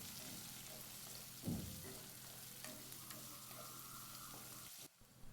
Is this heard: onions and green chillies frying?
yes